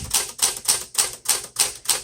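Keys of a 1970 Smith Corona Classic 12 manual typewriter, some of them stiff, clacking in a steady rhythm of about six sharp strikes over two seconds, close and clear with no talking.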